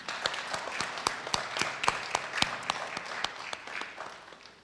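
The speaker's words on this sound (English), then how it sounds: "could who join me in giving Professor Corbridge another round of applause." An audience applauds after a distinguished academic lecture, with scattered, crisp individual claps in a moderately sized room, fairly quiet and sustained over several seconds.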